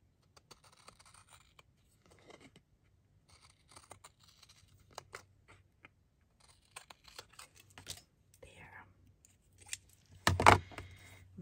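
Scissors snip card stock in short, quiet cuts near the microphone, scattered taps and scrapes between them, ending with a louder crisp cut.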